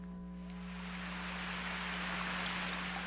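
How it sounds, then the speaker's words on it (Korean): Heavy rain pours onto the ground in a dense, continuous hiss that swells slightly and holds steady, with fat drops blending into a broad wash of sound and no voices. "비는 아직도 내리고 있었는데 눈에 보일 만큼 굵직한 빗방울이 후두두 땅 위에 떨어지고 있었다"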